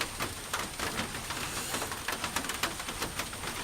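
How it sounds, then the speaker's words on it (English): Rain falls steadily, a dense continuous patter with scattered sharper drops, fairly quiet and with no voices. "and it's raining again."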